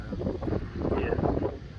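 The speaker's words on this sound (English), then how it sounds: "the wind was blowing a gale" Gale-force wind at a beach campsite at Birdlings Flat, Canterbury, New Zealand, pounds the microphone as a loud, uneven low roar with gusty swells, and a faint voice may be underneath.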